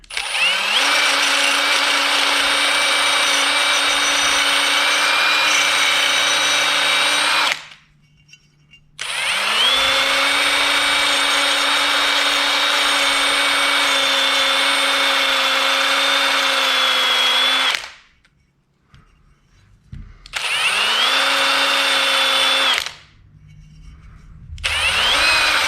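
A rotary brush on a drill whirs hard against a New Holland carburetor in long, loud steady bursts, stopping briefly twice before spinning up again, with no talking.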